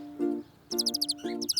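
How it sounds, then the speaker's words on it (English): Small birds give quick, high chirps in rapid bursts, alternating with a low, steady tonal hum, all fairly close and clear, with no one talking. "Those are birds."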